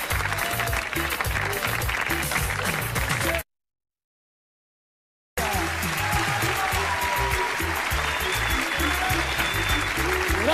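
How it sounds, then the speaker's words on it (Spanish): Audience applause for street comedians, a dense continuous roar of clapping with a brief silent gap midway, then resuming at full strength. "Muchas gracias por los aplausos"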